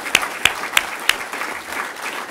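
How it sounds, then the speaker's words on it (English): At the NZ Open Source Awards 2010 in Wellington, a crowd applauds the Clinton Bedogni Prize for Open Systems winner. Sharp, close single claps punctuate a broad wash of applause with no voices. "Big round of applause,"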